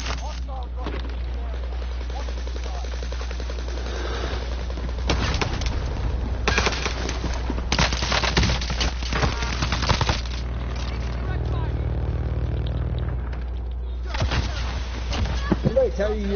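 Repeated bursts of automatic gunfire in the Rebirth Island battle royale game, with several rattling volleys separated by short lulls over a steady background. Players talk throughout.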